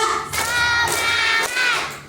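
Audience at an Isra Mi'raj commemoration clapping in unison on cue, a few sharp claps merging into a close, steady burst that breaks briefly near the middle before resuming.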